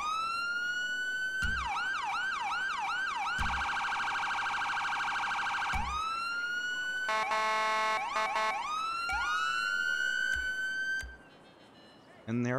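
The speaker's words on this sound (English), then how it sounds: "And there are the sirens." Custom police sirens in the game FiveM cycle through several patterns: rising wails, rapid yelps, a steady high tone and a fast warble, loud and close, with a brief pause near the end.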